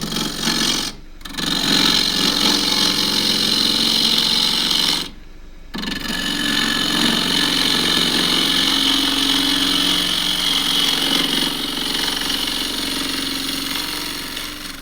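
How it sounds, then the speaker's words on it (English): Wood lathe roughing out a spindle blank with a 1/2 inch spindle gouge, the tail centre brought up; a steady loud broadband cutting roar runs throughout, with two short breaks where the tool lifts off. "just going to rough this out, 1/2 inch spindle gouge as usual."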